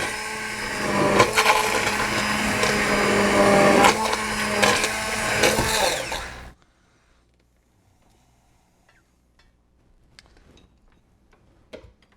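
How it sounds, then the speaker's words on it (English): Kitchen immersion blender running with a loud, steady whir and rattling ticks for about six seconds, then switching off abruptly into near silence with a few faint clicks. "This is an immersion blender, and it is the single best tool in my kitchen."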